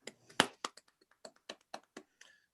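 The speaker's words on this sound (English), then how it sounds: "I think we should give Emma a round of applause to express our appreciation for the work she's done this past year" A single person claps about a dozen times, close and dry, in a small room during an online Senate meeting, with no other sound around the claps.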